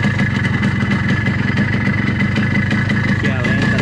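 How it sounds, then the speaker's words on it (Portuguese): A cold-started Yamaha RD135 two-stroke motorcycle engine idles close by with a loud, rapid, buzzy putter and a steady rhythm, while someone talks over it. "Aqui é a lenta dela, o parafuso da lenta."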